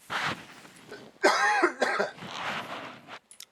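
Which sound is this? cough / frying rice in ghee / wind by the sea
cough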